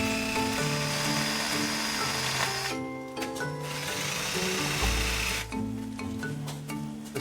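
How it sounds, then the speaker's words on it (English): A power drill grinds weld out of a bolt hole on a telescope being restored, whirring continuously up close with pitch shifts and brief dips as the bit bites into the metal. "So I'm just going to try and drill the weld out of the way."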